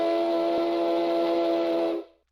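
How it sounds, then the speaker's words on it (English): A steam whistle in the video game Stormworks gives a single sustained, loud tonal blast, holding steady for about two seconds before cutting off cleanly. "So there's my steam whistle."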